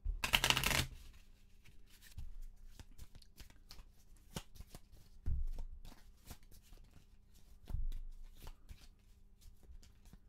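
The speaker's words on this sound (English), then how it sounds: "We're going to make sure that we do one more shuffle here and just make sure everything is shuffled up." Cards from the Arkham Horror board game are shuffled, opening with a loud riffle burst, then a series of sharp, scattered clicks and taps as the deck is handled and squared, with two heavier thuds along the way.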